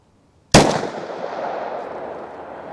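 A single sharp gunshot fired with Underwood Platinum Edition Xtreme Defender ammunition cracks loudly close by after a moment of silence, then trails off in a long, echoing decay.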